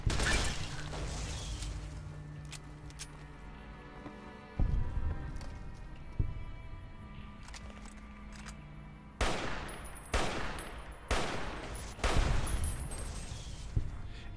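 Gunfire in the video game Fallout: New Vegas, Lonesome Road DLC: a sustained run of gunshots with loud sharp bursts and several heavy reports in the second half, over a constant game background.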